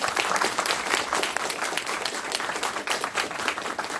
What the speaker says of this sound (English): join me in a round of applause for our wonderful panel